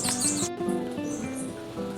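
A small bird chirps at a garden feeder in Trinidad, giving quick, close tweets in short bursts over about two seconds, with no talk.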